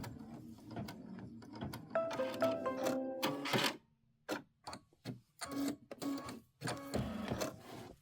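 Computerized embroidery machine sewing fabric down on a pieced quilt block, a close, rapid mechanical stitching chatter in bursts with brief pauses, heard alone.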